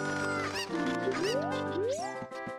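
Cucco chickens cluck and squawk in Ocarina of Time, producing several shrill, rising cries layered over bright game music, close and fairly loud.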